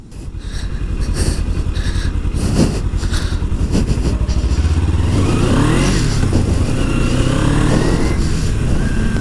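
A Kawasaki Ninja motorcycle ridden at low speed in rain, its engine droning steadily and close with rhythmic pulsing and rising revs, accompanied by clatter and wind noise throughout.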